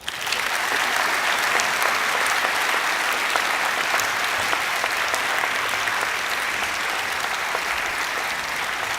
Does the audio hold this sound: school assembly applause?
yes